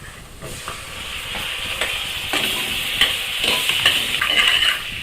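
Green chillies sizzle and hiss in hot oil as a spoon stirs them in a pan for egg biryani, close and crackling, with scraping strokes and rising spatter.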